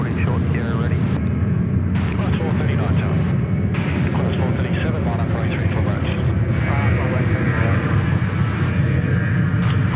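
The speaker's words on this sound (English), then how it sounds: "The Air Vanuatu 737." An Air Vanuatu Boeing 737 jet airliner at Sydney Airport roars loud and steady throughout, a broad continuous engine rumble and whine with talk mixed in over it.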